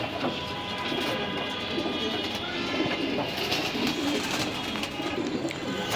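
Pigeons at feeding time coo steadily close by, a dense overlapping murmur of soft, throaty calls with a little fluttering, continuous throughout.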